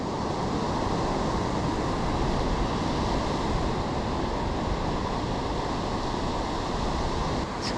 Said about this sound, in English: My goodness, it's a windy place, southeast. It's ridiculously windy.